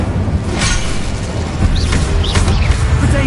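The Incendio fire spell is cast in Hogwarts Legacy, giving loud whooshing bursts and booms that flare up several times over a dense, rumbling game soundscape.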